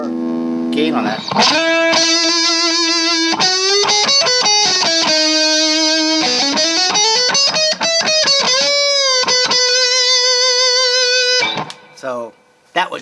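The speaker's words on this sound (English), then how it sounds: "Maybe even a little bit more gain on that." A high-gain distorted electric guitar plays sustained, bending notes with thick saturated overtones, loud and up front, then cuts off near the end into a brief quieter passage.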